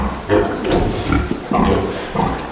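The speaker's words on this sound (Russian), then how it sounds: "Эти два кабанчика кастрированы." Two castrated young boars on a pig farm grunt close by in short, rough bursts, several calls in quick succession with brief pauses between.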